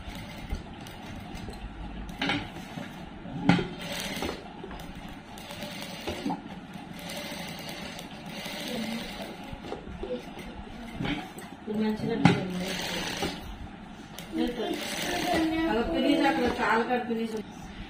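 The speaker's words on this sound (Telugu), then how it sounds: "సేమ్ మార్కింగ్ పైన మాత్రమే కుట్టు పడేలాగా చూసుకోండి" A sewing machine stitches along marked seam lines of a silk langa blouse, its steady mechanical whir running through the clip under a woman's close speech, with brief pauses and restarts.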